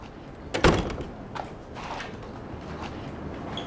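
A house door is opened with a sharp thump and rattle of the latch, followed by a few fainter knocks and shuffles in a quiet room.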